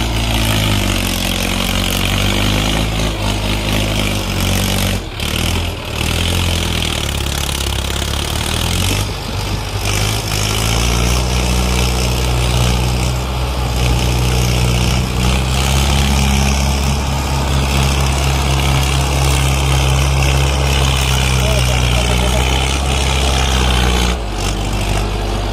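Mahindra Arjun 525 DI tractor pulling a fully loaded trolley, its diesel engine running loud and close with a steady low throb and brief revving surges throughout, no voices.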